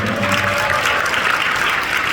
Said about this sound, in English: give a round of applause to Ro.